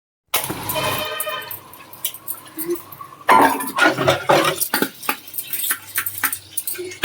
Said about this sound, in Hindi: फिर मैं सोच रही हूँ पहले मैं बर्तन जो है मांज लूँ।